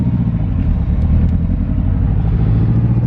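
A barn-find Ferrari 308 GTB engine rumbling loud and close in a steady, deep idle-to-cruise drone, with no distinct exhaust pops standing out.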